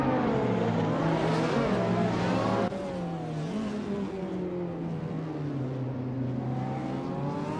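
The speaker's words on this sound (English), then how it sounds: "Sharon is driving a 1999 Lamborghini Diablo GTR." A 1999 Lamborghini Diablo GTR racing in a video game, its engine droning loud and steady at high revs with rising and falling pitch through gear changes, and a slight drop in level partway through.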